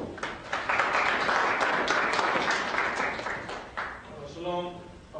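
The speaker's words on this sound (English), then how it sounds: "just want to give these brothers a round of applause" Applause from an audience at a university lecture at Hofstra University, Long Island, rising in bursts and fading, with a voice speaking over the clapping near the end.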